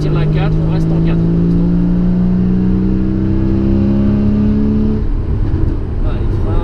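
Porsche Cayman S held in fourth gear on a race circuit, its engine note climbing steadily and loudly for several seconds before easing off, with a driving instructor's voice heard over it.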